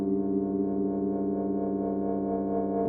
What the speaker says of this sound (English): Let's add some reverb to that.